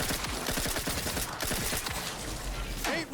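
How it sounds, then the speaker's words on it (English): Rapid automatic gunfire rattles in the Outer Worlds 2 video game, a dense, loud stream of shots that runs nearly the whole time before it briefly cuts out at the end. "Can't even see the thing I'm shooting at."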